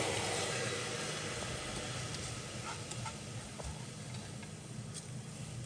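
Green peas and khichdi with potatoes cooking in oil, giving a steady, soft, hissing sizzle throughout with faint crackles and pops.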